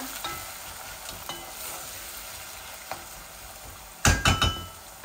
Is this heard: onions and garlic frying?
yes